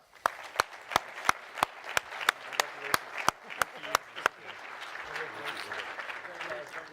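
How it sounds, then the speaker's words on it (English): At a defence innovation challenge award ceremony, one person claps in a slow, evenly spaced rhythm of about a dozen sharp claps, then softer scattered group applause and murmuring voices follow. "And a big round of applause."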